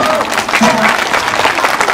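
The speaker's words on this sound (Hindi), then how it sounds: "जोश बढ़ाएं तालियों के साथ" An audience at an Independence Day celebration in a Gurgaon housing society claps loudly and continuously, dense applause with faint voices mixed in.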